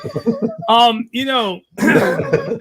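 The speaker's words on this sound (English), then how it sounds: "He's clearing his throat." A man clears his throat in a few short, rough voiced bursts with brief pauses, close and fairly loud, followed by a gravelly, voiced rasp at the end.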